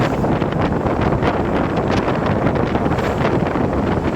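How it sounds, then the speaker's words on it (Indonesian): Strong east-to-west wind at Pantai Baru beach roars continuously into the microphone, a loud, dense rushing buffet with gusty fluctuations and no voices. "di wilayah Pantai Baru dengan hembusan angin dari arah timur ke baratnya sangat kencang, berat"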